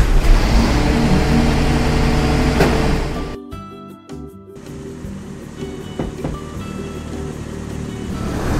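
A toy green garbage truck's engine sound, a steady mid-pitched motor drone with revving swells that briefly cuts out partway through and then resumes at a lower level.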